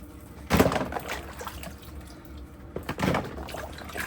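Apples slosh in a bucket of water in two close, splashy swills, with faint dripping and trickling in between.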